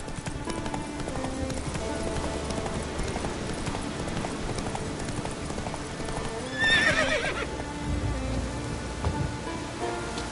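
Roach, the horse in The Witcher 3, gallops with a steady rhythmic clip-clop of hooves, rain falling around, and a loud whinny rising partway through.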